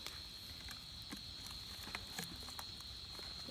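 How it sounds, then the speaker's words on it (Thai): Crickets chirp at night just after rain has stopped, a faint, steady high trill running throughout with scattered soft ticks and footsteps-like taps nearby. "พอเวลาฝนตกหยุดนะครับจิ้งหรีดนี้มันจะออกมานะครับ"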